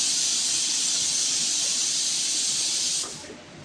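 A pressure cooker vents a loud, steady jet of steam in a home kitchen where okra is cooking alongside flatbreads. The hiss holds constant for about three seconds, then cuts off abruptly, leaving a quieter room.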